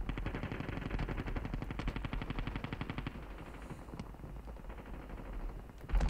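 Rapid automatic gunfire in the mobile game Call of Duty Mobile battle royale, long sustained bursts of evenly spaced shots with a brief pause, fairly quiet and without talk.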